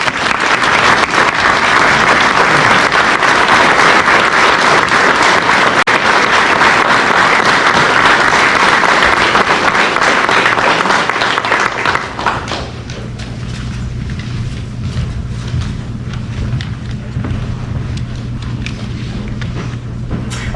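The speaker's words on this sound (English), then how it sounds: "Could we please have a round of applause for Master Warrant Officer?" An audience at a veterans' honouring ceremony gives a sustained round of applause, loud and dense clapping for about twelve seconds before fading into quieter room noise and a low hum.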